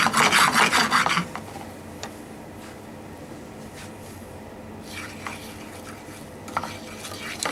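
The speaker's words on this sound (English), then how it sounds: "So I'm just going to slow down the stir." Food being stirred in a hot pan on the heat, a loud burst of scraping and rasping at first, then quieter intermittent stirring and faint clinks over a low background hum.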